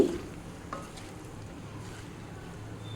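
Aloo capsicum kadai masala curry is stirred in a pan with a quiet, steady sizzle. A couple of soft utensil scrapes and clinks sound near the start.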